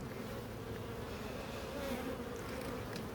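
Honeybees buzzing around an open hive, a dense continuous drone close by, steady and fairly quiet with no voices.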